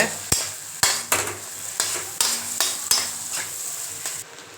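Egg mixture stirred in a frying pan for egg rice, with a run of sharp utensil scrapes and knocks against the pan over a soft sizzle, roughly every half second, close and fairly loud, no talking.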